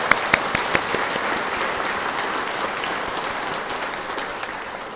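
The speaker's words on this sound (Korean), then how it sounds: "네, 박수" A Catholic congregation at Christmas Eve night Mass in Daejeon's Noeun-dong parish claps in welcome and celebration, a full, steady roar of many hands with a few sharper claps near the start, easing slightly toward the end.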